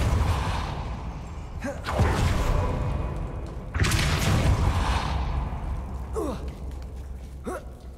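Accio and Depulso spells are cast in Hogwarts Legacy on PS5, making loud whooshing surges and thuds over a constant rumbling game ambience, with a few brief rising swishes between the bigger bursts.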